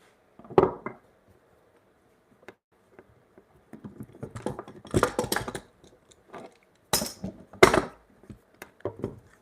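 A chisel pares stop cuts into hardwood while a mallet is being rebuilt, giving scattered sharp knocks and short scraping bursts in irregular clusters, close and fairly loud against a quiet room.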